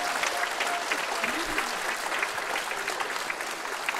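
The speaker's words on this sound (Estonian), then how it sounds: "Aitäh tänase õhtu korraldajatele, suur aplaus teile!" Audience applause at an Estonian Independence Day 105th anniversary evening at Rakvere culture centre, given for the event organizers; dense, steady clapping from a crowd that holds evenly for the full four seconds.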